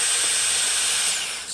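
A power drill fitted with a magnetic 1/4-inch metric nut driver bit whines steadily at high pitch as it spins out a bolt. The sound is loud and close with no speech, then eases slightly at the end.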